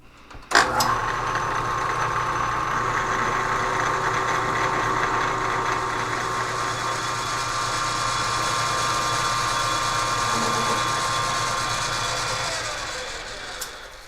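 Metal lathe turning down a steel cutter blank for homemade bead roller dies, a steady motor whir with cutting hiss running continuously for about twelve seconds, then winding down.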